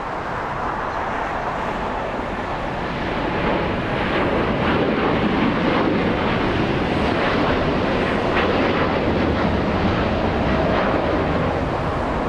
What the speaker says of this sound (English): A KLM 787-10 Dreamliner flying back to Amsterdam.